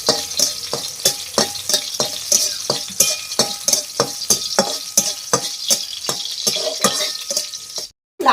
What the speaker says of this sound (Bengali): সাদা তেলের মধ্যে আমি দিয়ে দেবো একটুখানি রসুন তার আগে আমি দেব দুটো শুকনো লঙ্কা